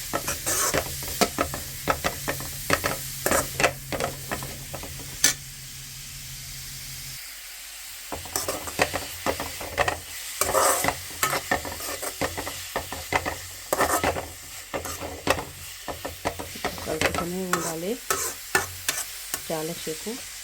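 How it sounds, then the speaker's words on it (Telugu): Grated carrots stirred nonstop in a pan while cooking down for carrot halwa, with repeated scraping and stirring strokes over a steady sizzle and faint hiss of frying. "క్యారెట్ వేసుకున్న తర్వాత దీన్ని నాన్ స్టాప్గా కలుపుకోవాలండి."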